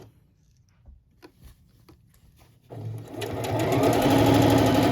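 A sewing machine stitches a napkin hem, starting quietly after a few soft handling taps and then running steadily and loudly in a continuous whirring buzz.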